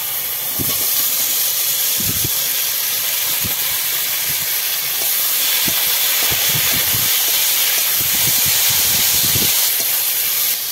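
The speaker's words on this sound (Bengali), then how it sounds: "পেঁয়াজটা লঙ্কাটা দেখো ভালো করে লাল লাল করে ভেজে নিয়েছি। এখন দিয়ে দেবো টমেটো।" Tomato dropped into a pan of reddened fried onion and green chili for an egg bhujia, hissing steadily and loudly like steam, with soft low stirring thumps scattered throughout and no speech.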